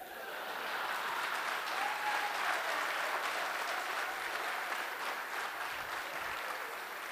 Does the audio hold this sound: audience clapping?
yes